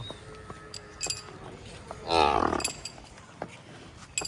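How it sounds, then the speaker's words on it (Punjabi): A water buffalo on a dairy farm gives one loud, drawn-out low moo partway through, with faint clinks and background noise before and after it. "ਪਰਤਾਲਾ ਮੱਝ ਨੂੰ"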